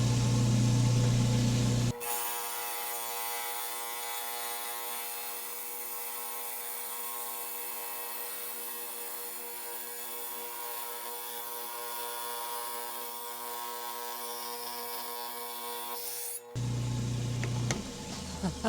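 A rock saw slices through thunderegg rocks found while rockhounding at Enterprise Reservoir, its motor holding one loud, steady whine for about fourteen seconds before cutting off abruptly.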